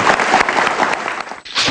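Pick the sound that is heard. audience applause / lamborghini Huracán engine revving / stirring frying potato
audience applause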